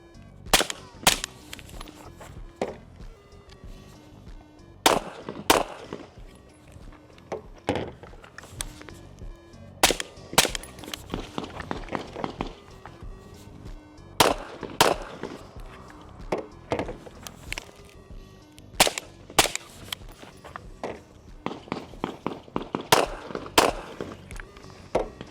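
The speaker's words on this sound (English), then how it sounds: "I think I'm shooting a little right with the Echelon." Echelon rifle shots in a shooter video game, sharp cracks fired in quick clusters and single bursts across the clip, loud and close, with short pauses between volleys.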